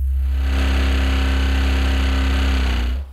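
A Porsche engine run with no oil holds a loud, steady, strained drone with a deep hum and harsh mechanical buzz, then cuts off abruptly near the end.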